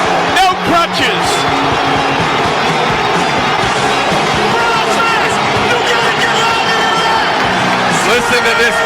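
A loud stadium crowd roars steadily for Cleveland Browns running back Nick Chubb at a Browns home game against the Jets, a thick, unbroken wall of cheering and crowd noise with no break.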